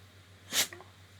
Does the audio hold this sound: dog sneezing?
yes